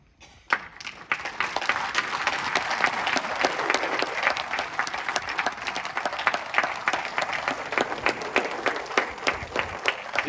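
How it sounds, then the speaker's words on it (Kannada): A crowd at a Kannada film event applauds in honour of director SV Rajan Singh Babu, a dense, steady clapping that swells quickly after a lone early clap and carries on unbroken near the microphone. "ಇನ್ನು ಹೆಚ್ಚಿನ ಚಪ್ಪಾಳೆಯ ಮುಖಾಂತರ ಧೀಮಂತ ನಿರ್ದೇಶಕ SV ರಾಜನ್ ಸಿಂಗ್ ಬಾಬು ಅವರನ್ನ ಗೌರವಿಸಬೇಕು"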